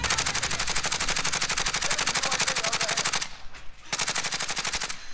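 Fully automatic fire from the GRAU rifle in Call of Duty rattles out in a fast, steady stream of loud shots, briefly pausing before another sustained burst.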